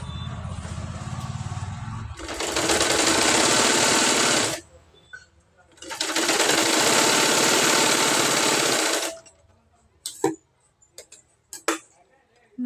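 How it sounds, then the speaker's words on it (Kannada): An electric sewing machine stitches a lined blouse in two steady bursts of a few seconds each, a loud rapid whirring hum, separated and followed by quiet pauses with faint handling clicks, and someone speaks before and between runs. "ಮಡ್ಚ್ಕೊಂಡು ಹೊಲಿಗೆ ಹಾಕೋರಿ,"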